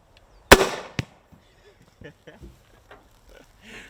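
A can cannon firing a can: one sharp loud bang followed a moment later by a second crack, then scattered quiet thumps and low voices talking.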